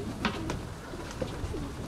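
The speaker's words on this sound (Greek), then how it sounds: "Όλα πήγανε τα πουλιά πάντως, έχουν πάει πολύ ψηλά όλα." Pigeons or doves coo softly in short, low calls at moderate distance, with faint wing flutters and outdoor ambience, no voices.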